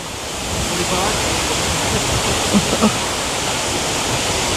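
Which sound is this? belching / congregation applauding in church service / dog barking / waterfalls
waterfalls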